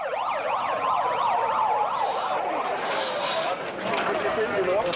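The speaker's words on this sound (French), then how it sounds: "Les ambulances et les pompiers repartent." Ambulance and fire engine sirens wail loudly as the vehicles pull away after a bombing in a city street, several overlapping rising-and-falling tones, with street noise and voices around them.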